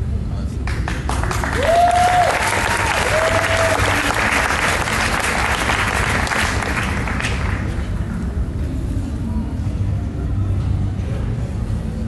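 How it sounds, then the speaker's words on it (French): Audience applause fills a hall at a live manga drawing session at Japan Expo 2012, loud and steady for several seconds with a brief whistle-like cheer early on, then fading away into room murmur. "Allez, on applaudit bien fort."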